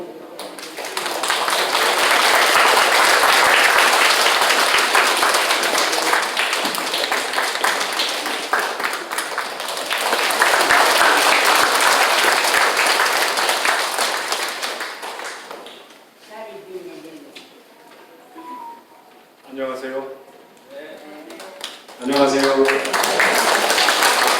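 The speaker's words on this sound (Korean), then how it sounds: "지휘자님 어, 오실 때 크게 여러분 박수로 좀 환영해 주시기 바랍니다" Loud, dense applause from a concert audience welcoming the conductor of the Nanpa Choir at a Chuseok 2025 performance, sustained for about fifteen seconds before fading into a man's speech.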